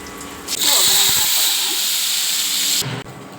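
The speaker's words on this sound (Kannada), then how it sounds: "ಇವಾಗ ಕರ್ಬೇವಿನ ಸೊಪ್ಪು ಹಾಕ್ಕೊತೀನಿ." Curry leaves dropped into hot oil for tempering cucumber sambar, Mangalore style, set off a loud, steady hiss and sizzle that holds for a few seconds and then cuts off abruptly.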